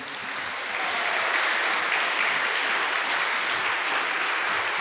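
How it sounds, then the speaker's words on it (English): A crowd at an awards ceremony in Rochdale Town Hall breaks into sustained applause, dense even clapping that swells after the first second and holds steady. "So please can we have a round of applause for Madhya."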